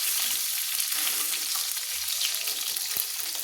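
Two fish heads sizzle and crackle steadily in hot oil, a continuous close frying hiss with a soft low thump near the end; no one speaks.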